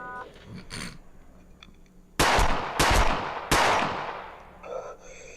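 Gunfire from the Finnish action film Nato Commando, three loud, sharp blasts about a second apart with short ringing tails, set among quieter soundtrack noise.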